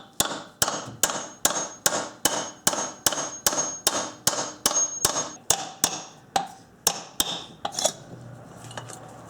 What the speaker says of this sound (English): so that I can tap the piston out the rest of the way